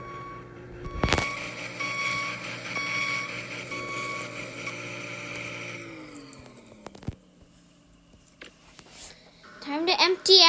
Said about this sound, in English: Let's empty the garbage truck.